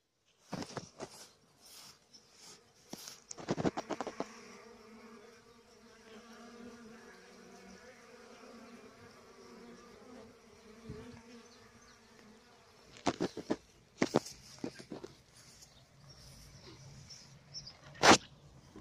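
Honey bees carrying rapeseed pollen buzz around an apiary, a soft continuous drone with bursts of louder close buzzing as individual bees fly past.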